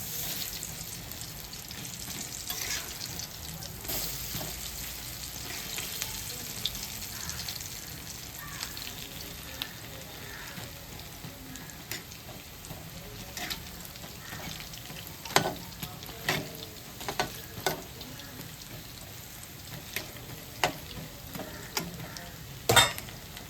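Duck fritters (duck bora) frying in a pan with oil, a continuous soft sizzle with scattered pops and crackles, occasional stirring or turning clinks, close and steady with no talk.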